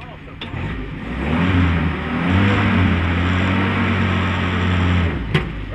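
A Jeep Surrey with a column-shift three-speed manual transmission hums steadily from inside the cabin as it is driven, the engine note rising slightly and holding, with a faint knock near the end.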